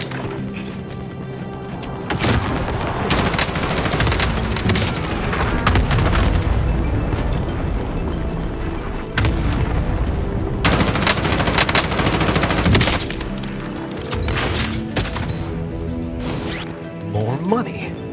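Loud gunfire in Warzone: machine-gun bursts and booming shots come in dense waves over about eighteen seconds, with a person talking throughout.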